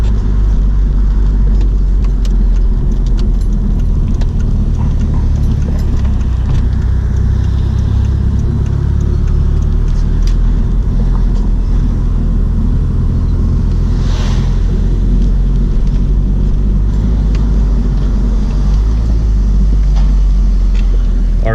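A Mitsubishi Evo with firm, aging suspension rolls over slightly raised, uneven road surfaces in Japan, giving a steady loud engine and road rumble from inside the car with no talk, plus a brief brighter swell midway.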